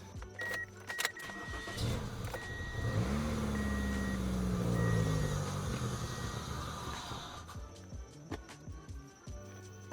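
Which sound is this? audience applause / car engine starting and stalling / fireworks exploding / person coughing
car engine starting and stalling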